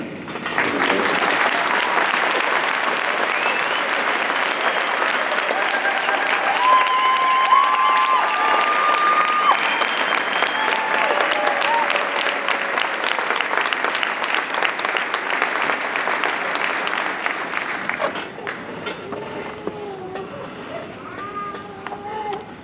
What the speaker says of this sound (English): Let us give our graduates a big hand